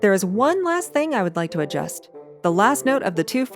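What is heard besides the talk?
No everyday noises stand out.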